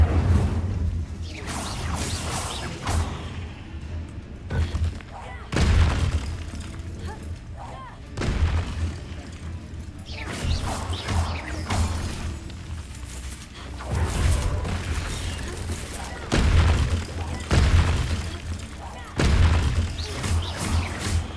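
Spell effects from Hogwarts Legacy, including the Incendio fire spell, burst out as repeated booming whooshes and impacts, loud and close, over a steady rumbling game soundscape.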